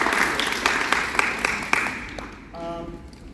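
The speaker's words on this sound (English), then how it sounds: "Please round of applause." An audience at a poetry reading gives a round of applause, scattered claps that thin out and fade, followed by a brief tonal sound.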